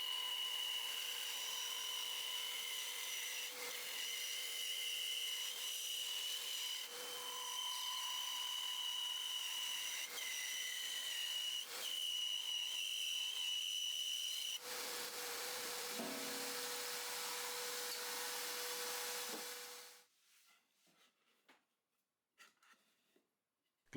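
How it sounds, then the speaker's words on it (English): A bandsaw cuts through 2x4 lumber, giving a steady loud whine and rasp for about fifteen seconds, then a thinner blade hum as the saw runs on before the motor winds down and stops, leaving quiet clatter. "Cut those on the bandsaw"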